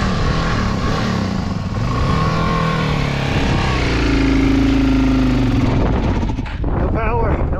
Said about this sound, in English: We're so high that the carbureted bike is kind of giving out.